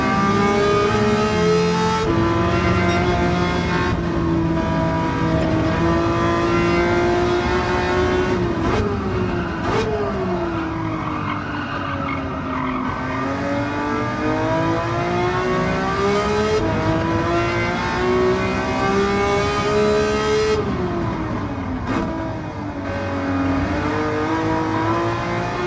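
A race car engine on track in a racing video game drones loudly and continuously, its pitch climbing through the gears and dropping on downshifts, with no voices.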